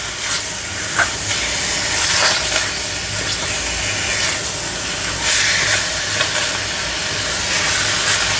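Raw chicken is mixed with salt and turmeric in a pot for chicken pickle, giving a loud, continuous hissy rustle with repeated scraping strokes close up.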